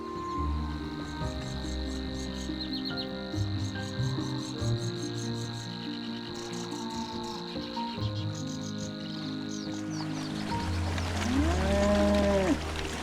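Crickets chirp steadily in a field while cattle low nearby on lush pasture in Poland, with a few deep moos rising toward the end.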